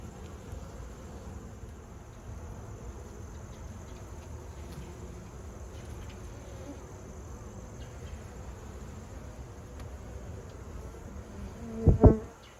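Honeybees buzz continuously around a hive suspected of being robbed, a steady droning hum held at an even level, with a sudden louder knock or bump near the end.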